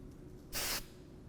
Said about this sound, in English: Let me spray it and see what we think.